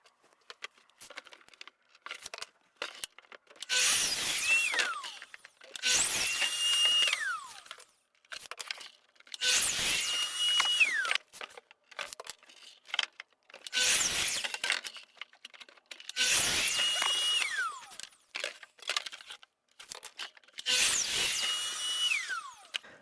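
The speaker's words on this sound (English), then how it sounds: "let's start with the first step, cutting all the plywood to size to create this really fun project" Plywood sheets being cut to size with a power tool: five loud, harsh cutting bursts at a steady rhythm, each separated by a short quieter pause.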